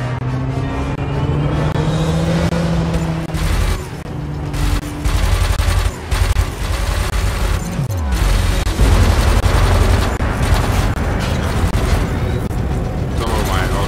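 Ship-mounted autocannons in Elite Dangerous space combat fire in loud, rapid bursts, with heavy booms and continuous engine rumble and a sweeping pitch drop. Someone talks over much of the fire.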